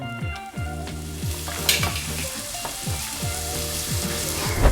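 Onion, garlic and ginger sizzle loudly in a hot pan for sautéed chicken liver, with a constant frying hiss and repeated spatula stirs scraping the pan.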